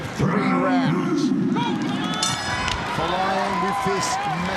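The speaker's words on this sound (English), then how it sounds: "Folayang with this massive crowd behind him" Large arena crowd roaring behind Filipino fighter Eduard Folayang during a ONE Championship lightweight world title bout, a loud continuous swell of cheering and shouting with voices in the mix.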